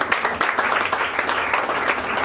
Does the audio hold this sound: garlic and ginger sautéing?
no